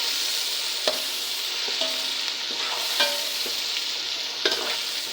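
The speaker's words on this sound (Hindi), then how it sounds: "अदरक लहसुन का पेस्ट इस्तेमाल करूँगी, मैंने इसमें डाल दिया। अब मैं इसे थोड़ा सा पकाऊंगी इस तरह से" Ginger garlic paste frying in a pot, with a steady sizzle broken by several sharp scrapes and knocks of a spoon as it is stirred, close and clear with no voices.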